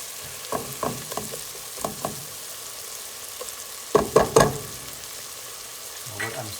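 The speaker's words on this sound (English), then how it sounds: "saute butter, saute onions, saute just stuff when it starts heating up." Butter and onions sauté in a pot for cheesy potato soup, giving soft sizzling with a few louder clanks and stirring scrapes near the mic, then fading to a quiet hiss.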